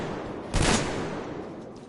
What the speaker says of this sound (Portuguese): Aí, gastei um tiro à toa, cara.